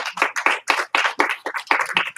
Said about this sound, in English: Give him 1 stomp, 2 claps.